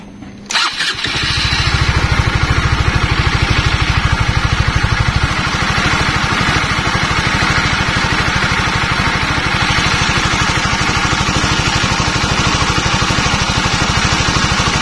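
A Honda CBR 150 motorcycle with a faulty regulator-rectifier starts after a brief crank, then settles into a loud, steady idle that runs close by for the rest of the clip.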